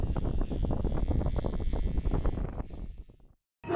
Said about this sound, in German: Es geht ein ganz schön fieser, gemeiner, kalter Wind.